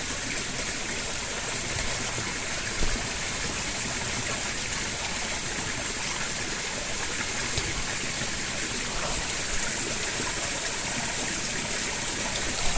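Creek water flows steadily and continuously, a broad even rush of running stream water heard up close with no voices over it.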